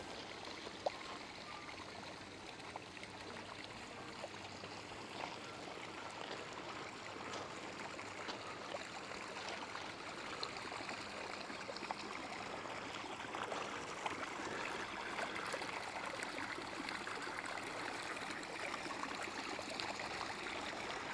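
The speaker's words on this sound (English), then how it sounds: "There's the flowing water I could hear" Steady rushing of flowing water through a Nativity display, a continuous broadband wash with no pauses, fairly even in level throughout and no voices.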